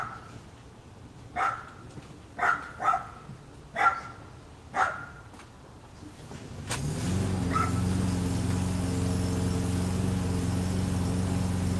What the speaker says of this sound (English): she was barking at the neighbor that's just starting to mow the lawn there